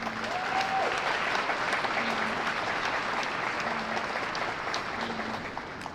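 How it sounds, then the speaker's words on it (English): Audience applause at the Pixar Place Hotel opening ceremony at Disneyland Resort, a dense, steady wash of many hands clapping that holds evenly loud across the whole stretch, with faint background tones. "Let's give them a round of applause."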